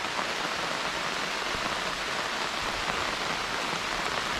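Rain falls on a fishing camp beside a natural striped catfish fishing spot in Thailand, a dense, even hiss of drops spread across the whole stretch, close and steady, with no voices.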